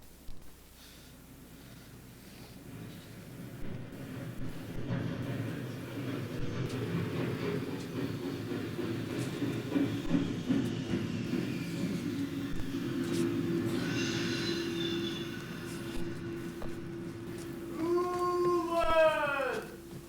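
A train pulls into a station, its low rumble slowly building and rolling closer before sharp metallic brake squeals ring out near the end as it slows.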